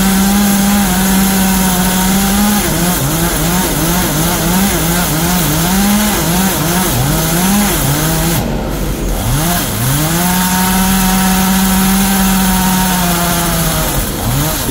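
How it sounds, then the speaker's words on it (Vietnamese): A chainsaw cuts into a very large khaya tree, its engine loud and close, revving up and down repeatedly as it bites in, then settling to a steady high idle. "Rồi chúng mình bắt đầu cưa đó cho nó ngã nè các bạn."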